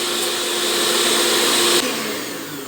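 An electric mixer whirs steadily through chocolate cake batter at close range, a loud constant drone that drops in pitch and fades slightly near the end.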